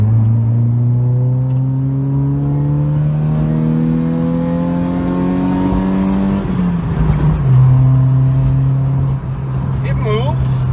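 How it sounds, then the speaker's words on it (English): A 2001-2002 Honda Civic with a 4-cylinder engine and 5-speed manual accelerates through the gears at a car show, its loud engine note climbing steadily, dropping at a shift, then climbing again. "It'll go through the gears."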